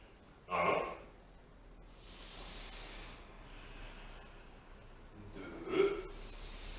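Slow, soft breathing during a yoga pose, with audible inhales and exhales spaced several seconds apart over a faint hiss, no talking.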